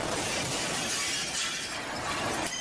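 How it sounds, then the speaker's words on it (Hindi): A window pane shatters loudly when a heavy object strikes it, a dense burst of breaking shards that keeps crackling and tinkling for a couple of seconds. "उसी वक्त एक भारी सी चीज आकर सीधा खिड़की के शीशे से टकरा गई"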